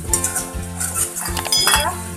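Spices are stirred in a pan for a vegetarian dhokar dalna: a spoon scrapes and clinks against metal in quick, close strokes, with a light sizzle underneath.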